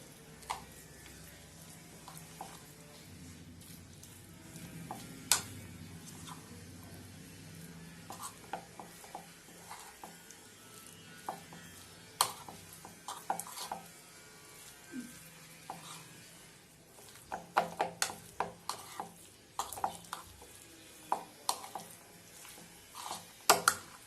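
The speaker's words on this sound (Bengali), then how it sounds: "দিয়ে সমস্ত উপকরণ একসাথে মিশিয়ে নেব" Filling for stuffed chicken buns, chicken and other ingredients with cheese, being stirred together in a bowl, faint soft scraping and irregular clicking taps of the spoon that grow busier toward the end.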